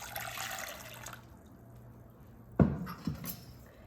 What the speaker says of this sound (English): We're gonna add 2 cups of hot water to that Jello.